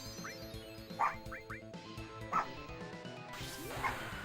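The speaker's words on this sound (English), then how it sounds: "Stop barking!" A dog in the PlayStation game Final Fantasy 7 gives a string of sharp, synthesized barks and yips, some in quick pairs, spread across a few seconds over looping game music.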